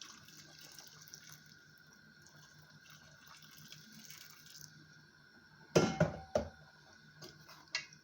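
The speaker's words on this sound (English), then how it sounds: "So, just a little bit of boiling water." Boiling water is poured in a few short splashing bursts into a pot of Jamaican curried goat, sharp and close over a quiet kitchen background with a faint steady hum.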